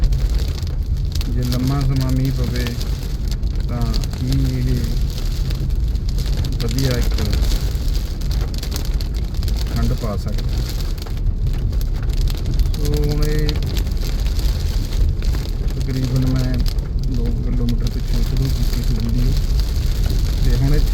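Heavy rain drums steadily on a vehicle roof and windscreen during a drive past fields, a dense constant hiss throughout, with someone talking over it at intervals.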